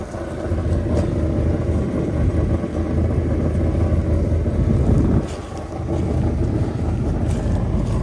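Steady low rumble of a 1957 Chevy engine idling, originally a fuelie car, heavy and continuous with a brief dip near the middle, with some wind noise over it.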